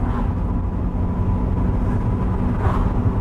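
Interior drone of a barn-find Rover 25 Commerce van moving in third gear with a dragging brake, a steady loud low engine and road rumble with no speech.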